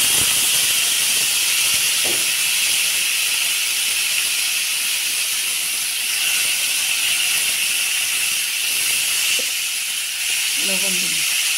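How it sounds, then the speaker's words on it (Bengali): Potatoes frying in hot oil already used to fry fish for a Bengali singmachar jhol, giving a loud, steady sizzling hiss throughout with a few soft crackles and a faint voice briefly near the end. "এই তেলে আলুটাও ভেজে নেব।"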